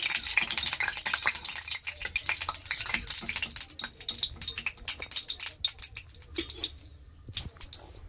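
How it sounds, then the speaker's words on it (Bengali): Thick-cut cauliflower pieces dropped into hot oil crackle and spatter in an irregular, busy stream of sharp pops and clatters, fairly close and continuous, with no talking. "ফুলকপিটা একটু মোটা মোটা করে কেটেছি, এটা দিয়ে দিচ্ছি তেলের উপরে, ভেজে নিয়ে যাচ্ছি।"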